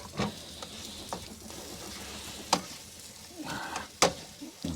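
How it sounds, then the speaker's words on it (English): Food sizzling in a frying pan as it is stirred, with a steady crackle under intermittent scraping and clattering strokes of the utensil, close and fairly quiet. "And just stir it around."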